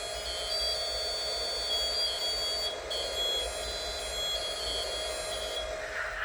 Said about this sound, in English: I also programmed the alarm buzzer to play the Thunderbirds theme when going up and down